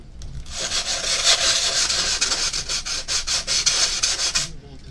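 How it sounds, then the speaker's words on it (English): Sandpaper rubs back and forth on a craft piece in steady, rapid strokes, close and fairly loud, running continuously for several seconds before stopping. "once again I will have to make a mess and do some sanding."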